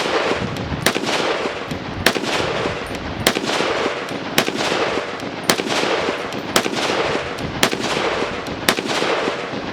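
Rapid gunshots from a Ruger SFAR .308 rifle, about nine sharp, loud cracks fired at a fairly even pace, each followed by a brief ringing echo, with no voices.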